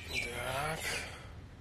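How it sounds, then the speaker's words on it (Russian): Several birds singing outdoors, with thin chirps and whistles heard close by under a person talking. "Сверчки, это не сверчки поют, это птицы поют."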